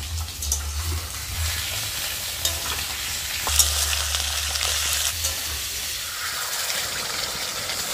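A small bay leaf and a little onion frying in hot oil as a spice tempering, giving a steady close sizzle and hiss with occasional stirring scrapes and a low rumbling hum underneath, no talking.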